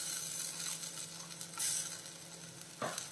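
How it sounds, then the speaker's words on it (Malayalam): Ground paste is stirred into a sizzling tomato curry in a pan, giving steady frying hiss with spoon scraping and a few louder stirring swishes, close and without talk. "ഇനിയിപ്പോൾ നമ്മൾ അരച്ച് വെച്ചിരിക്കുന്ന അരപ്പ് ഇതിലിട്ട് കൊടുക്കാം"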